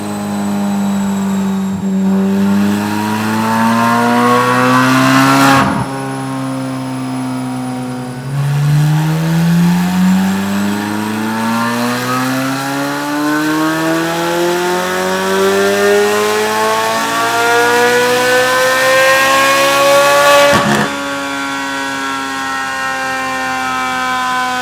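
A modified Chevrolet C8 Z06 engine revving hard on a baseline run, rising through several long high-pitched climbs that break off sharply and restart, loud and close with no talk.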